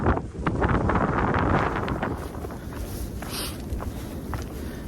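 Strong gusts batter the microphone on a mountain trail along the Appalachian Trail between Hot Springs, NC and Erwin, TN, a loud rumbling buffet that swells early and eases slightly, with no talking.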